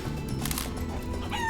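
A chicken in the video game Guacamelee! 2 gives short clucks over game music and effects, fairly close and moderately loud.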